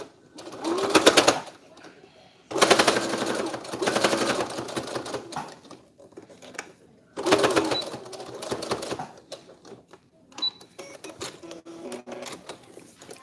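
A sewing machine stitches fabric for a face mask in close, rapid whirring bursts of mechanical clatter that start and stop, separated by short quiet gaps and a few small clicks.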